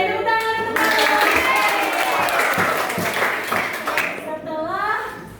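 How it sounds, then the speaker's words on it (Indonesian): Applause and clapping from a classroom of eighth-grade students fill the room, steady and fairly loud, with voices cheering and talking over it. "tepuk tangan untuk Pak Guru."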